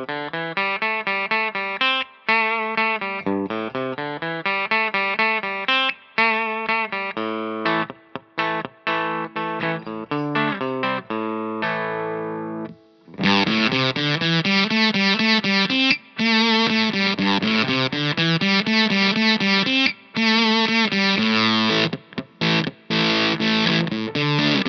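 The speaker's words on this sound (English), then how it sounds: "So the SG straight into the amp sounds like this." A clean electric guitar, an SG straight into the amp, plays a lively run of chords and single-note lines, with brief pauses between phrases and a bright, undistorted tone throughout.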